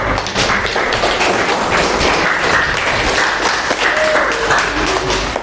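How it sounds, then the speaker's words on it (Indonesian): A classroom of vocational networking students gives a round of applause, a loud, thick patter of clapping that runs throughout with a few sharper taps and light thuds mixed in. "Boleh kasih tepuk tangan dulu?"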